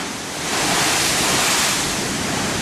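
Ocean waves at high tide on a beach at Ao Nang, Krabi, Thailand, a loud steady wash of surf with a broad rushing swell, no talk.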